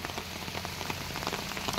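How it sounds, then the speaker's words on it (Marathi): Heavy rain pours down in a garden, a dense, even hiss of drops striking leaves and ground with no break and no voices. "पावसाने आता जोर धरलाय मात्र मंडळी"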